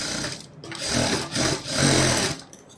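Sewing machine stitching along the neck of a blouse, a close, loud, continuous mechanical whirr that surges and eases in short bursts.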